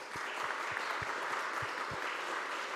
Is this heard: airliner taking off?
no